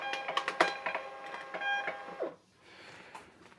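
A printer runs through a print job nearby, with rhythmic mechanical clicks and whirring feed noises that stop, followed by a quieter hum and a sharp click at the end.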